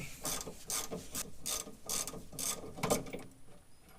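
A ratchet wrench loosening a tight 14 mm bolt during a sway bar and subframe brace install on an Integra Type R, a close run of rhythmic clicking ratchet strokes, about eight bursts, without talk.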